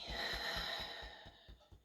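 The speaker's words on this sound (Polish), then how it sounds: "Wydech ustami." A single slow, soft exhalation through the mouth during a home breathing exercise for immunity, close and quiet, tapering off toward the end.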